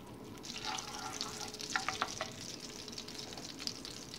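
Oil heats in a pan for muhacir köfte sauce, giving a faint, steady crackling sizzle with a few brief pops.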